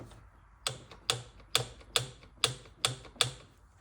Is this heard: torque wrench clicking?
yes